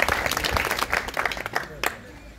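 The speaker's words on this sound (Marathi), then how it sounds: "टाळ्या वाजवा" A crowd at a spiritual gathering claps for a speaker, a dense patter of hand claps with separate sharp claps standing out, voices mixed in, fading toward the end.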